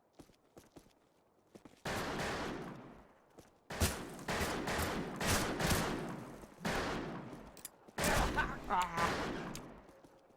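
A teammate's gun fires in a video game in several separate loud bursts, each lasting a second or two with short quiet gaps between, plus faint footsteps.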